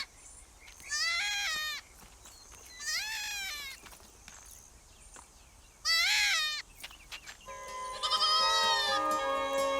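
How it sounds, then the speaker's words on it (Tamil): Goat kid bleating in a thorny rural spot, three separate wavering cries spaced a few seconds apart, loud and close, followed by a steady tonal hum near the end. "ஆட்டுக்குட்டி கத்துற சத்தம் கேக்குது"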